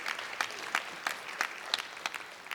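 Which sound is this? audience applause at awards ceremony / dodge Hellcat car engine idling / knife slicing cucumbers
audience applause at awards ceremony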